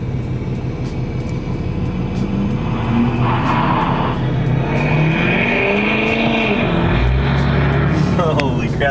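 A truck with a new pusher system rumbles loudly nearby and pulls away, its engine note rising and shifting over a constant roar, with people talking over it.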